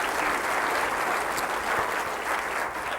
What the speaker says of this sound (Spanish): Dele un aplauso al Rey de Reyes y Señor de Señores, Jesucristo.